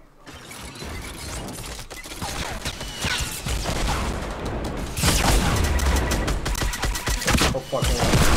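Rapid gunfire and explosions rattle through a Fortnite battle royale match, dense bursts building and growing louder toward the end, with brief voices mixed in.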